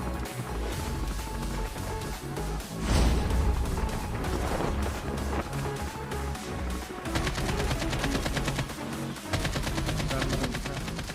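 Call of Duty battle royale gunfire: dense, continuous bursts of rifle shots with heavy bass impacts and explosions under a steady game soundtrack, loud and busy throughout.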